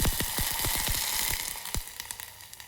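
Half a glass of water poured into a hot dhokla tempering of oil, curry leaves and sugar, setting off a burst of loud crackling sizzle that fades into fainter popping.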